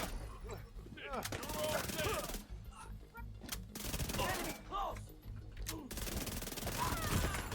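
Rapid bursts of SMG fire in The Division 2 rattle in short clusters separated by brief pauses, while someone talks over much of the shooting.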